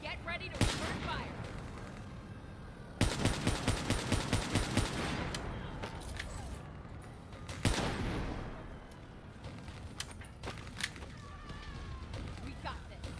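Gunfire in Call of Duty: Black Ops III on a sand castle map, with loud automatic bursts of rapid shots and sharp single blasts scattered across the span, mixed with game effects.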